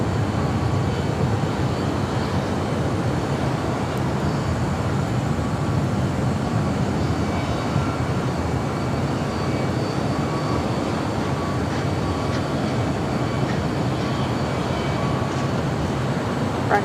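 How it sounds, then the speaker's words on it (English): Steady, continuous low jet engine rumble from a China Airlines Boeing 777 freighter taxiing at LAX, heard as an even, distant broadband roar that holds for the whole stretch without breaks or talk. "China Airlines 777 freighter starting taxi."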